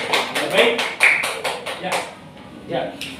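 A class applauds a fellow student with a quick run of rhythmic claps that fades out, and people talk over and after the clapping.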